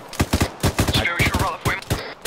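Rapid bursts of gunfire during a military firing exercise crack out close and loud in quick irregular volleys, with a brief voice heard partway through.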